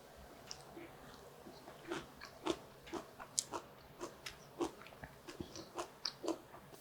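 Someone eating chili leaf kimchi at close range: a string of soft, crunchy bites and wet chewing sounds, irregular but steady, with no talking.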